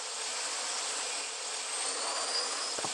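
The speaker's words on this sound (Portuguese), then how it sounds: "O barulho dela, o roncado é muito legal, ó." Futuristic motorcycle in the video game Last Day On Earth gives off a steady, loud, airy roar like a jet engine, sustained and even for the whole stretch with no voices over it.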